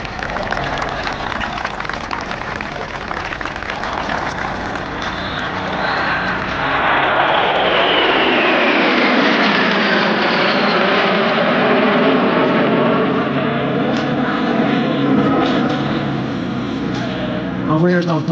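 A formation of twin-engine jet aircraft roars past at over 700 km/h at an airshow, the loud rushing noise swelling and then sliding down in pitch as they sweep by and fade.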